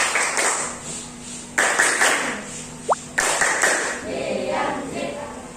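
A class of schoolchildren performs a 'tepuk diam' clapping chant, with loud bursts of group clapping in short rhythmic blocks and a few faint voices.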